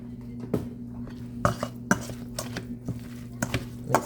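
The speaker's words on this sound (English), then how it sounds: "Mix those eggs up and all that stuff up really good." Eggs and seasoned broccoli get mixed in a bowl, a utensil clinking and scraping against the sides in irregular knocks and taps, close and fairly quiet.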